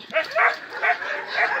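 Several dogs bark and yip in small enclosures at an animal shelter, two or three dogs to a pen, in repeated close, fairly loud bursts with a whimpering edge, joined by some background voice.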